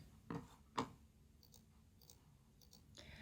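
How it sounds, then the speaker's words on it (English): Buttons on the PCalc calculator app being clicked: two sharp, distinct clicks close together near the start, then a few faint ticks over a quiet background. "make an error in the buttons that you are clicking on the calculator"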